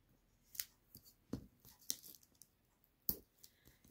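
Scissors snip through papercraft paper in a handful of separate sharp cuts, close and crisp with quiet pauses between them; no talk.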